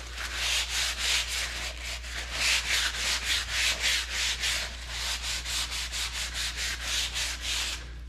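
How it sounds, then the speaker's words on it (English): A heavy-duty gritty hand and tool wipe rubbed back and forth in rapid, even strokes, a loud close scraping swish repeating about twice per second over a low steady hum, with no talk. "let me pull a wipe out here"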